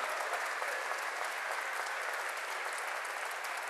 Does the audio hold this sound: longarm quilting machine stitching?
no